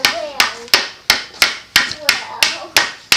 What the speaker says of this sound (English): You can use the back of the hammer to straighten those things.